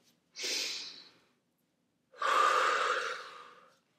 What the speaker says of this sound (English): We're going to breathe the air in through our noses and out through our mouth, like this.